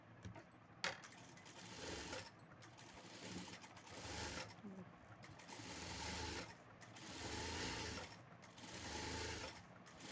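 A sewing machine runs in repeated bursts as it stitches piping onto a lined blouse, steady whirring runs broken by brief pauses, recorded close but at low level.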